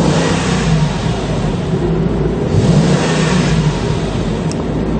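A Mercedes-Benz SL55 AMG with about 105,000 km runs after being started, its engine giving a loud, close, steady deep rumble with slight swells in revs and no talking.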